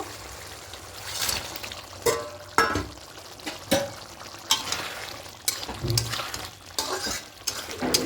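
Katla fish pieces being mixed in a sizzling pan, with a spatula repeatedly scraping and knocking against the metal in irregular strokes over a steady fry, close and clear.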